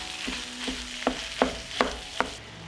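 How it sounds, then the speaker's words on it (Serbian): Minced chicken fries with softened onion in a pan, a steady sizzle broken by a regular series of scraping stirs, close and moderately loud, with no talking. "Na propržen luk dodajem 400 g mlevenog pilećeg mesa i nastavljam da pržim."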